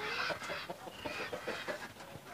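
Free-range village chickens on a backyard plot cluck in a steady series of short calls, fairly near and moderately loud, with no talk over them.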